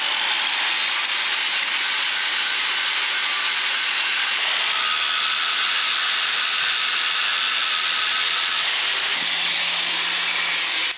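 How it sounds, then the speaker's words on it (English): A steady, loud, hissing metallic grind runs continuously throughout, with a slight shift in pitch partway through, as a power grinder grinds off steel welds on a workbench. "I'm going to go ahead and grind off the welds"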